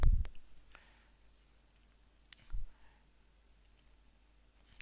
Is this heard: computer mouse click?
yes